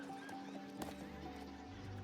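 Horse hooves clip-clop steadily while a horse neighs once in the Star Stable video game, a mount ridden on the first level, with a faint game music bed underneath.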